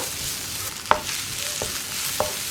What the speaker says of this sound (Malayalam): ഇനിയിപ്പോൾ ഞാനിതിലേക്ക് കുറച്ച് ചൂടുവെള്ളം ചേർക്കുകയാണ്